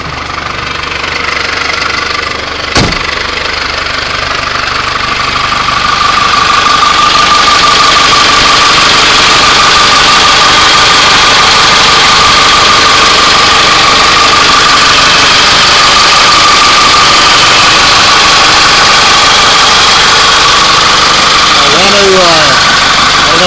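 Cummins 4BT diesel swapped into a Ford Bronco, idling and running steadily up close, a loud continuous knocking rumble with a tonal whine, a sharp clank near the start and a voice talking over it toward the end.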